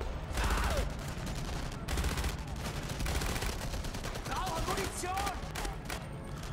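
Rapid gunfire in the shooter video game Enemy Front, with repeated bursts of shots fired downward at enemies, steady and dense throughout, with faint game effects underneath.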